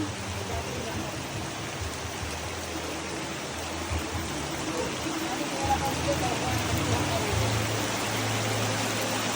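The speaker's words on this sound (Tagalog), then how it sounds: "Sobrang lakas ng ulan." Steady, dense hiss of heavy rain pouring down, continuous and loud throughout, with a low rumble beneath.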